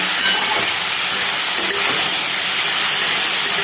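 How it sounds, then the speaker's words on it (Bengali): Taro pieces fry in hot oil with salt, making a steady, loud, broadband hiss and sizzle that stays even and close throughout. "তো চলো একটু ভাজা ভাজা করে নিই"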